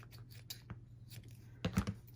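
Small scissors trim the strands of a bead tassel to even it out, a few faint quiet snips and light rustles, with one sharper cluster of cuts near the end.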